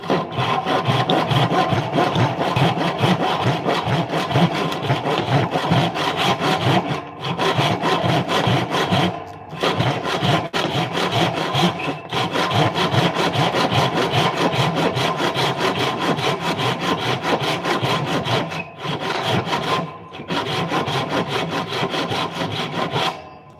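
Hand saw cutting through wood in steady, continuous back-and-forth strokes, loud and close, with a few brief pauses between runs of strokes while tools are being made.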